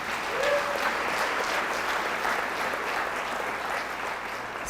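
Audience applause after a community keynote talk, a steady dense wash of clapping from a room full of people that holds evenly for several seconds.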